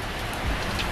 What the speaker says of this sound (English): It's a rainy day at the shop